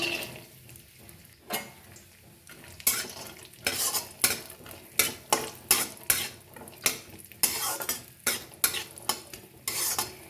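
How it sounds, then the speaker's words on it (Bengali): Cashews and raisins fried in ghee in a wok, heard as repeated loud scraping strokes of a spoon against the pan over a soft sizzle, close and rhythmic, with no speech. "কিছুটা ড্রাই ফ্রুটস আমি ভেজে নিচ্ছি এখানে কাজু কিশমিশ আছে দিয়ে দিচ্ছি"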